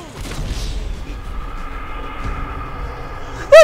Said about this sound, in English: That tank shot!